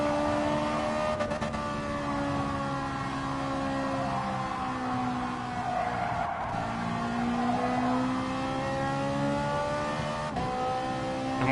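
A race car engine in a PS4 racing game drones loudly and continuously, pitch rising and falling through gear changes and corners, with brief tire squeal and no talking.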